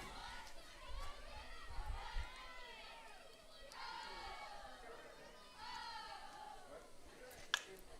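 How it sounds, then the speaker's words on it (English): A high school softball team cheers from the dugout during a game, with rhythmic chanting voices rising and falling at a moderate distance while an announcer talks over them. "Here are dugout cheering them on."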